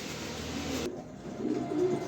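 A pair of cream bar pigeons coos softly and low over faint background hiss, the coos rising slightly toward the end.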